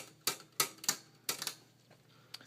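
Typing on a Royal portable typewriter: a few sharp, close key strikes in an uneven rhythm, then fainter taps trailing off, with no talk.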